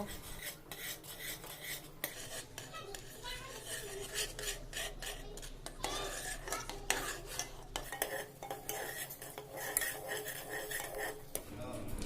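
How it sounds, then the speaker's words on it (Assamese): Milk being stirred in a pot as it thickens for homemade pera sweets, a steady scraping and rasping of the spoon against the metal continuing throughout, close up, with no one talking. "গাখীৰখিনি ডাঠ নোহোৱালৈকে লৰাই থাকিব লাগিব"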